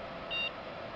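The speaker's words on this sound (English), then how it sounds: "but we got a beep, so something is changing." A train cab signal in a Northeast Regional cab gives a single short, high electronic beep that marks a signal change. It rises briefly above a steady low rumble from the moving train.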